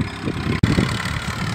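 A tractor engine idles in a vineyard during winter fertilizing, a loud continuous low rumble with a brief dropout midway.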